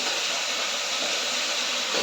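Vegetables and meat dropped into hot mustard oil in a pressure cooker for chicken stew, giving a loud, steady, close sizzling hiss with no break.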